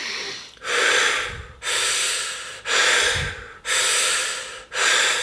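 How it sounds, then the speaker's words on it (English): Continuous connected breathing in a breathwork demonstration, loud and close, with five long airy breaths in a steady rhythm and almost no pause between the in-breath and the out-breath. "We want to keep the breath connected. So it will look like this."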